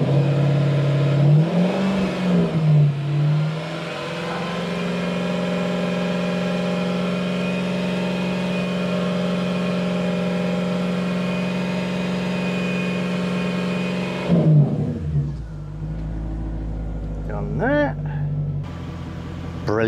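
A Jaguar XK8 engine held at a raised speed near 2500 rpm gives a steady, loud mid-pitched drone. It winds down toward the end, and a voice comes through underneath.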